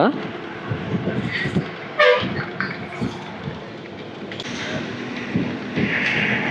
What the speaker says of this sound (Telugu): కొత్త వలస రైల్వే స్టేషన్.